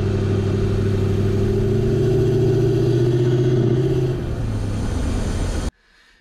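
A car fitted with a K&N FIPK aftermarket intake, running lean, driven normally: a loud, steady engine drone with a strong low hum that eases slightly near the end before cutting off abruptly.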